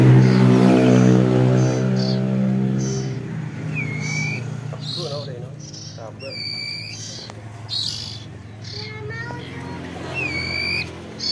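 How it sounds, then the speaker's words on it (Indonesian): Baby birds in an indoor room chirping and peeping in short repeated bursts, fairly close, while someone talks over them throughout. "itu bunyi teman ini mau dikasih makan ya sama Mas Alfar"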